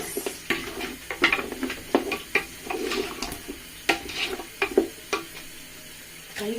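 Food being mixed in a big party pot, with a spoon scraping and clacking against the metal in irregular strokes, close and fairly loud, with no voices.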